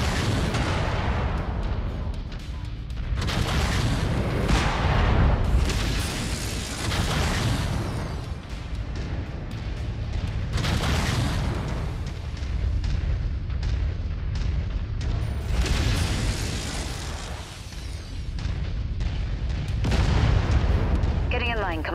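Heavy explosions from incoming missiles in the MechWarrior 5 mech combat game, with repeated deep booms and blasts that roll on loudly through the whole stretch, over a dense battle din and occasional radio voices.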